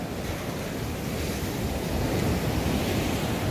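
Ocean waves breaking near Tamarit Castle, a steady broad wash of surf mixed with wind buffeting the microphone, growing slightly louder toward the end.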